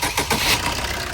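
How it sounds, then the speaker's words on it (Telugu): A Maruti car engine cranks and catches, a brief, close, rough mechanical roar with no talking. "एक बार स्टार्ट करो मामा ECM मामा स्टार्ट करो गाड़ी"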